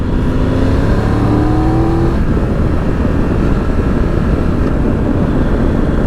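A Triumph Tiger 1200 GT Pro motorcycle accelerates on a road test ride, its engine note rising through the first two seconds before settling into a loud, steady roar with wind rush, no voices.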